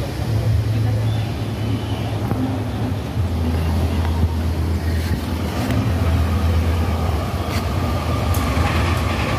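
A steady low rumble of an electric commuter train departing a station, with rolling rail noise and faint clatter, continuous throughout, with muffled voices in the background.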